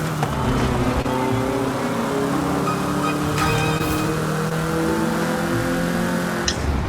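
Car engine in the Forza Horizon video game, driving through twisty streets in Mexico: a steady, loud engine drone with shifting harmonic pitch throughout, and a brief sharp click near the end.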